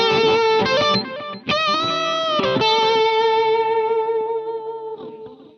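A smooth, sustained electric guitar lead through the ML Sound Lab Humble Dumble amp plugin plays a few notes with gentle distortion and effects, the last note ringing out and slowly fading.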